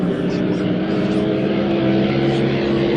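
The engine of a racing boat, built by Bobby Thurgood, roars during a close race with a steady, loud, droning tone throughout.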